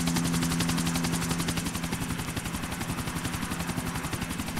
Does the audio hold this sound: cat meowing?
no